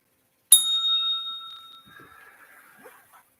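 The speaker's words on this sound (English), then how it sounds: "ring the bell. We're gonna ring the bell." A single bell strike rings out bright and clear, then decays slowly into a faint lingering tone, with a few soft background noises afterward.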